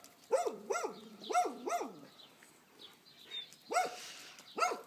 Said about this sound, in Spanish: Que es el perro de Ana Bordas. Que nos viene a recibir